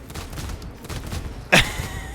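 A single sharp pistol gunshot in Against the Grain, a loud close crack followed by a short ringing tail after a stretch of low game ambience.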